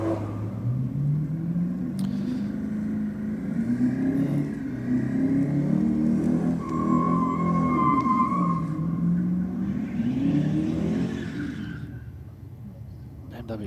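BMW drag car at a no-prep drag racing event, engine revving at the burnout box with a steady low rumble and rising and falling pitch, loud and close, while an announcer talks over it.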